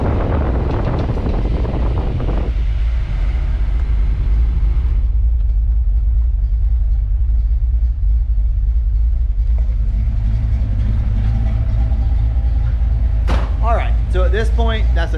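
Car engine idling steadily after a new idle air control valve and engine computer were fitted, a constant low rumble with some wind noise and a brief burst of louder activity near the end.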